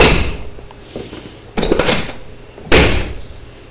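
Door of a project truck being shut with little force: two solid thuds about a second apart, each followed by a brief rattle, close by over steady background noise.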